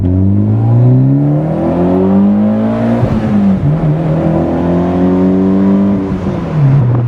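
A Mitsubishi Evo X with an HKS Hi Power exhaust revs up and down repeatedly, deep and throaty, its pitch rising and falling in loud sweeping pulls.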